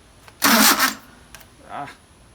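A Mercedes 190SL with Solex carburettors cranks briefly and loudly at its starter, then goes quiet, followed by a fainter second burst of cranking.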